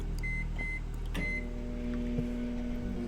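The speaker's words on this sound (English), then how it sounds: "Putting that pizza in the microwave." Microwave oven heating pizza, a steady low electrical hum running throughout with a few faint clicks and a short tonal beep, close and quiet.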